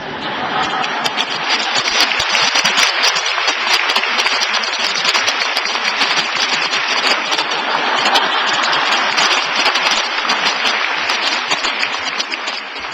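Loud, sustained applause from a church congregation during a sermon, a dense wash of many hands clapping that holds steady for the full length without breaks.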